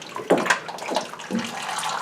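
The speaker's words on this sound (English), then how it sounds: "I'm just loosening it as it drips out." Old engine oil from a fourth-generation Ford Mustang GT drains into a pan as the plug is loosened, a close, steady liquid gush with a couple of brief splashy surges.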